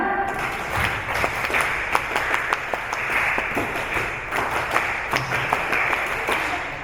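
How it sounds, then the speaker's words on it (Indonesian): An audience at an election literacy workshop does a scout-style clap, a crowd of hands striking in loose rhythmic bursts with sharp individual claps poking out of a continuous patter. "2 kali tepuk pramuka"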